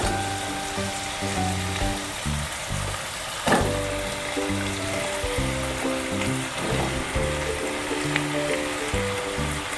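Raw potato and pumpkin pieces frying in a pan, giving a steady close sizzle with a clatter as they are tipped in and occasional stirring knocks, no talk.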